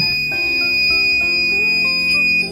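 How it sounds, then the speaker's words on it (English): A loud, sustained electronic beep from a heat press finishing a mug sublimation, with steady high tones from start to finish, with a few soft clicks and bumps underneath. "you're getting ready to hear a loud beep because it's done"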